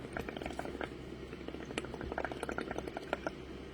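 Air blown into ink, with pearlised ink added, for a bubble background, making a soft, close, continuous bubbling gurgle with small popping crackles.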